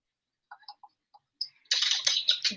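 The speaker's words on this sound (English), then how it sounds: "please let me know if my typing becomes obnoxious for you guys" Computer keyboard typing during a live writing session: a few scattered single key clicks, then a dense, fast run of keystrokes, close and fairly loud, with no talking.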